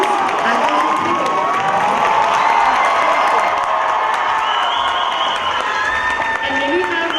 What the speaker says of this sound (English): may we please have another round of applause for our seniors, actors, and crew